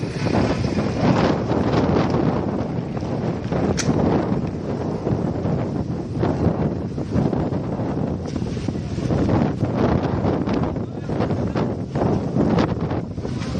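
Strong gusty wind buffets the microphone continuously, a loud rushing roar with irregular bursts throughout and no clear talk.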